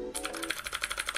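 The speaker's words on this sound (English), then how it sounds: "This guy is an Iquinix F96 mechanical keyboard, cherry blue switches, so it sounds like this." Rapid, crisp clicking of an Iquinix F96 mechanical keyboard with Cherry Blue switches, a quick run of evenly spaced clacky keystrokes heard up close.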